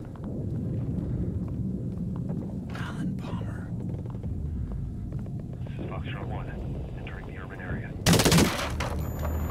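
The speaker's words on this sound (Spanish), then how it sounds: "que he escuchado los tiros ahí súper fuerte por la derecha" Gunfire in the Blair Witch video game: bursts of shots, the loudest a sharp, harsh volley near the end, over a low ambient rumble with voices under it.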